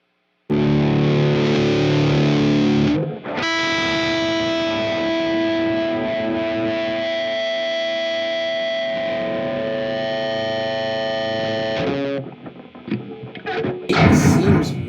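Electric guitar through a Fulltone OCD overdrive pedal into a Mesa Dual Rectifier amp, a heavily distorted chord followed by long sustained notes that ring for several seconds, then noisy hiss and scratchy string handling at the end.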